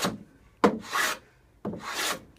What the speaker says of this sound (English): you can hear the shaving start here and end